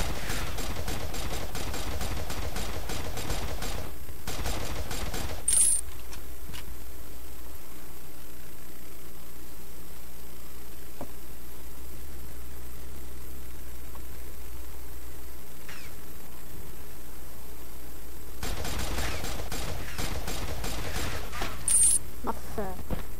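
Gunfire in the online shooter Red Crucible 2: rapid crackling bursts of shots at the start and again near the end, with a quieter stretch in between, while a player talks.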